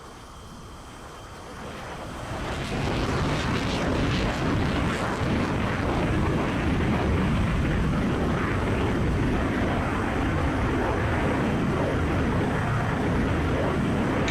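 An F-16 jet engine in the Falcon BMS 4.38 flight simulator builds from a low rumble to a loud, steady broadband roar over the first few seconds, then holds that sustained thrust noise with no break.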